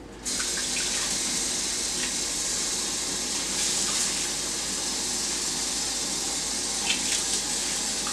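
Hot water runs steadily from a tap over a wooden bagel board, a continuous close hiss and splash that holds evenly throughout with slight shifts as the wood moves under the stream.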